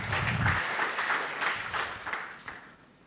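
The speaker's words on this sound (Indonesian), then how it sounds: "Yang mau berikan tepuk tangan meriah buat Tuhan kita." Congregation clapping for God during an online Sunday church service, a broad crowd applause that starts full and gradually thins and fades over three seconds.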